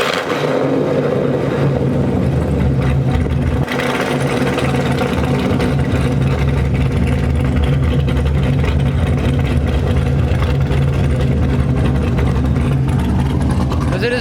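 A Corvette fitted with a stage 3 cam and new headers fires up and settles into a loud, lumpy idle, its deep rumble steady throughout with a brief shift early on and people talking in the background.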